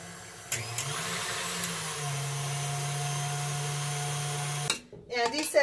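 An electric mixer whips a chocolate and peanut butter dessert topping with a steady, droning whir, its pitch shifting slightly before settling. It stops abruptly near the end, and a voice speaks afterward.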